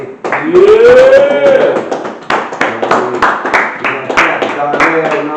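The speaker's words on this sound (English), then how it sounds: "We're gonna clap it up for LA" An audience at a live LA event claps in rapid, uneven bursts, mixed with a talking voice and a rising vocal exclamation near the start.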